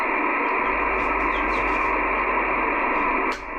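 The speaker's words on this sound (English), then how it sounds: "This is an unusual amount of noise on this radio." Steady hissing static pours from a CB radio tuned to sideband during a preamplifier repair, loud and continuous, with faint chirps and a soft click as it dips near the end.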